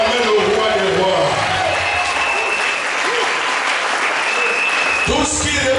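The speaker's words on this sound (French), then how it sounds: "Est-ce que le peuple de Dieu peut l'acclamer?" A church congregation applauds loudly and continuously, a dense wash of clapping with cheering voices mixed in, joined by a speaking voice and the crowd, near and sustained throughout.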